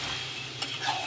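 Boiled chickpeas, potatoes and banana flower sautéing with ginger, garlic and spices in a pan, making a brief steady sizzle with a couple of soft stirring scrapes close up.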